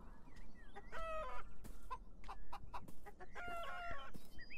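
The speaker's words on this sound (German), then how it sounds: "Ein ganzes Hühnergehege." Chickens cluck and chatter in a coop in the video game Beyond Eyes, with several overlapping birds producing repeated bursts of clucks and a brief crow-like call, close and fairly loud against a steady outdoor ambience.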